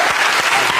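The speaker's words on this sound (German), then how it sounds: "Großer Applaus" Studio audience applause at a German TV comedy show, a dense, steady wash of clapping filling the whole short moment, loud and close with no talk over it.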